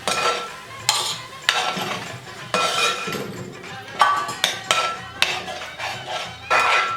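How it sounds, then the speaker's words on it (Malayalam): A spoon stirs curd into vegetables in a cooking pot for Kerala kaalan, giving repeated clinking scrapes against the metal in irregular bursts, close and fairly loud. "തൈര് പിരിയാണ്ട് നല്ലതുപോലെ ഇതൊന്ന് ഇളക്കി കൊടുത്തോണ്ടിരിക്കണം"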